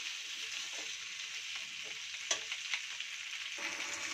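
Chicken stir-frying with capsicum, tomato and onion in a pan, giving a steady close sizzle broken by a few sharp stirring clicks and scrapes, with no voices.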